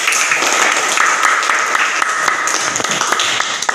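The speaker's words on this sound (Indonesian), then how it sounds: "Tepuk tangan." A classroom bursts into applause, dense steady clapping from many hands, loud and close, lasting the whole stretch with a few voices mixed in.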